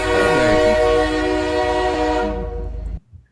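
A train horn sound effect fires from a soundboard button: one loud, sustained, multi-tone blast with rich harmonics, holding about three seconds before it cuts off abruptly, with no talking over it.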